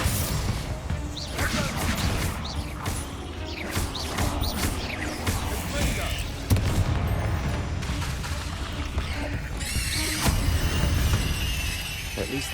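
Spell-casting combat in the Hogwarts Legacy video game, with dense overlapping blasts, crashes and whooshing magic bursts that keep up loudly without a pause for the whole stretch.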